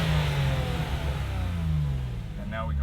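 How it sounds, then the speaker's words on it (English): A Porsche 911 Carrera S with a TechArt Valvetronic exhaust idles and blips its engine in a sustained, loud, close rumble, with a brief rise in pitch near the end. "The car sounds amazing thanks to the Valvetronic exhaust."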